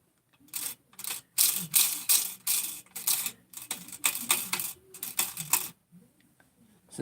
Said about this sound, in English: So now I'm going to put these bolts back here